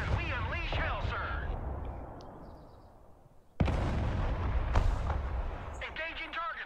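Artillery fire in the war strategy game Broken Arrow, a sudden heavy boom midway that drops into sustained rumbling blasts, with radio-style voices talking before and after.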